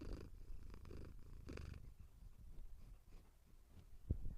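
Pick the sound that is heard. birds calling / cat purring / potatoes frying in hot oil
cat purring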